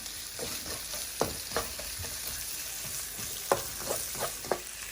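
Onion stir-fries in a pan for a Cantonese-style dish, a soft steady sizzle under occasional scraping and tapping strokes of a utensil, close and fairly quiet without speech.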